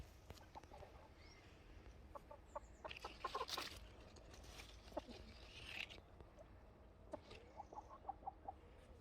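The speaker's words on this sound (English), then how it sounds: "It's a chicken in a tree." A chicken perched in a backyard fruit tree clucks in short faint bursts and soft scattered calls at a distance, with light rustling and patter around it over about nine seconds.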